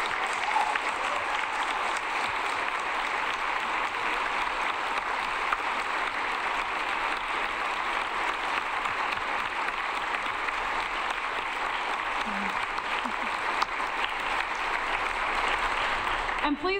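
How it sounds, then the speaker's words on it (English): A congregation at a coming-of-age bridging and senior graduation service applauds its graduates, with steady, dense clapping filling the room for the whole stretch. "Let's celebrate them with a round of applause."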